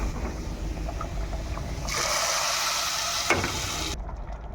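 A tempering of garlic, onion, panch phoron, cumin, dried chilli and black cumin sizzles in hot oil with a steady hiss that grows louder partway through, broken by a brief clink.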